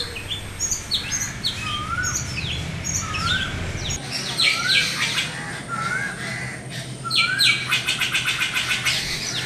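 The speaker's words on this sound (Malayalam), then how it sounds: "ഓ, എത്ര കിളികളാണ് ഇവിടെയുള്ളത്!" A garden full of birds: repeated bright chirps and tweets from several birds, with rougher squawks and crow-like calls joining, close and lively throughout, growing busier toward the end.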